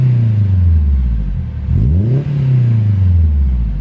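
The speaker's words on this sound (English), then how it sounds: "Go ahead and give it a rev again, George." A car engine revs through a newly added exhaust resonator: a loud, close, throaty drone that rises sharply to a peak and falls back, then holds a steady idle-like hum.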